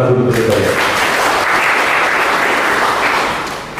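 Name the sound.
audience applause for Persebaya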